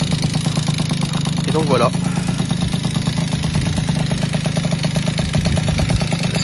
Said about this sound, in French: je vais vous la démarrer. Hop, avec le démarreur lanceur